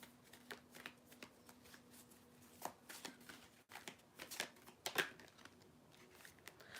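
Tarot cards shuffled by hand in a quiet room, with soft, irregular riffling and tapping bursts that repeat close by, faint and without speech.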